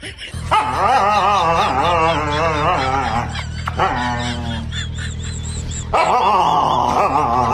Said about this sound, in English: oh the happy dog